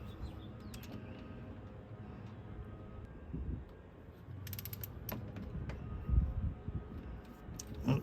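Torque wrench clicking while tightening an injector hold-down on a VP44 Cummins diesel, quiet mechanical ratcheting with a few sharp clicks near the end in a workshop.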